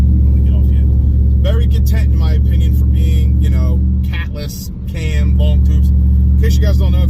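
A catless truck running an AWE exhaust with long tube headers, a cam and a Whipple supercharger drones loud and steady on the highway, with a brief dip in volume near the middle, while someone talks over it.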